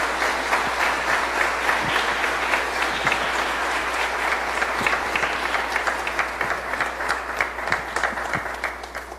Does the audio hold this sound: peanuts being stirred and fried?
no